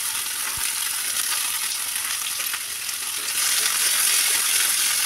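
Pumpkin and carrot hit hot oil already crackling with mustard seeds, producing a loud, continuous frying hiss up close that swells noticeably partway through.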